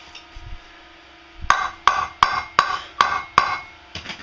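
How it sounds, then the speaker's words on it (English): A hammer strikes a part being fitted onto a child's ride-on car, six sharp evenly spaced metallic blows close by with a ringing tone, then a couple of lighter taps. "Hitting it with a hammer."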